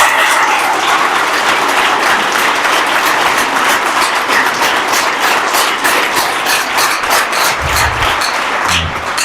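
A church congregation breaks into loud, sustained applause that fills the room for several seconds, dense and close, with scattered cheers and no clear speech over it.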